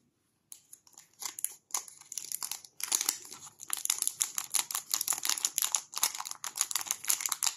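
Foil hockey card packets from an Upper Deck MVP hobby box crinkle and rustle as cards are pulled out, a close, busy run of sharp crackling bursts that keeps going without a break.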